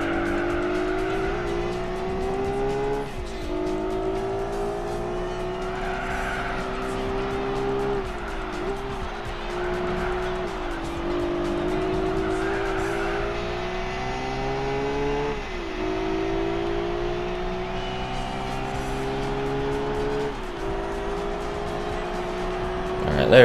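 A race car lapping in Gran Turismo 4, a loud, sustained engine whine that climbs through the gears with brief dips at each shift, tires squealing at times, under occasional talk.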